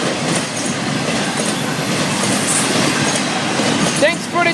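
FEC locomotive 101 leading its own train past, a loud steady rumble of rolling wagons with wheel clatter and brief squeals near the end.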